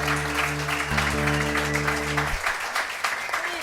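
An audience at Club Passim, a small folk venue, applauds a singer-songwriter: lively clapping and a few cheers from a modest crowd over a fading sustained hum, continuing after the hum cuts off.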